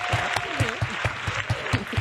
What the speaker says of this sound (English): We're going to give them a long applause.